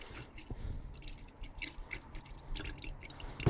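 Diesel dripping from the fuel filter drain of a Mitsubishi 4WD, a quiet run of close irregular drips and a light trickle into a container.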